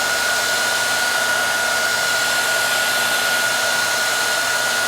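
Steady, close airflow roar from a heat gun warming the scuffed plastic fender of a Saturn Sky Redline / Pontiac Solstice GXP, unbroken for several seconds with a thin tonal whine.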